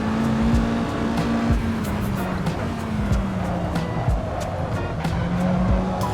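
A car in a racing video game brakes gently and turns in toward a corner apex on a track: a steady, close engine drone whose pitch dips and rises, with faint tyre scrubbing and no talk.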